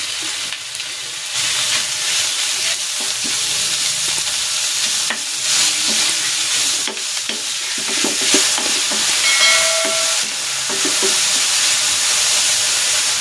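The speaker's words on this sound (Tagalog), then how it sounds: "Igigisa ko na dito itong ground pork." Ground pork sautéing with onion in a pan, a steady close sizzle and frying hiss with stirring scrapes throughout, no voices.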